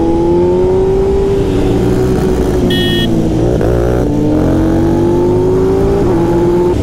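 A motorcycle engine drones loudly and steadily, pitch rising and falling as it revs and shifts while riding, close to the microphone.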